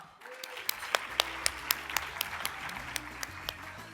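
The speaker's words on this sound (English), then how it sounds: "Would you please give a warm round of applause to our next LGBTQ+ Political Hall of Fame inductee, Commissioner Ricardo Lara." An audience at an LGBTQ+ Political Hall of Fame induction applauds the next inductee, a fairly quiet room with sharp, separate claps standing out above a softer bed of clapping, mixed with low murmuring voices.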